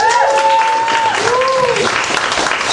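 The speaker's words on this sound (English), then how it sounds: "Give her a round of applause." A comedy club audience applauds in a steady, dense wash of clapping, heard briefly under a voice talking over it.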